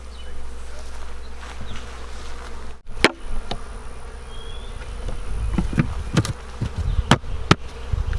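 Swarm of honey bees buzzing during a bee hive removal, a continuous close drone with a few sharp clunks and knocks of handling.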